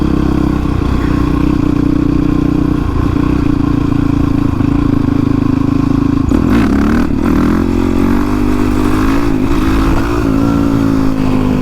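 A Honda CRF450X supermoto motorcycle ridden through town streets, its engine a loud, continuous close-up drone that holds steady and then shifts pitch and revs around the midpoint, with wind rumble throughout and no talking.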